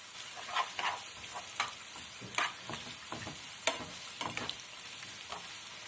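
Red onions sizzle steadily in a hot pan while a utensil scrapes and stirs them in repeated, uneven strokes.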